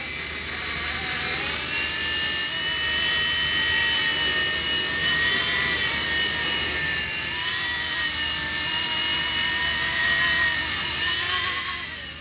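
E-flite Blade mSR radio-controlled micro helicopter flying indoors, its steady high-pitched rotor and motor whine holding constant and close for the whole stretch, with no talking.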